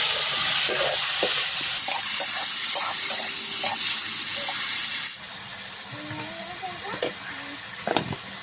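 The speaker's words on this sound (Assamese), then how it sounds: "এতিয়া আমাৰ মাংস ফ্ৰাই হ'ব ধৰিছে আৰু ৰঙচুৱা হৈছে" Chicken leg pieces sizzle and fry in a pan, a steady bright hiss with stirring clatter and scraping, which quiets partway through.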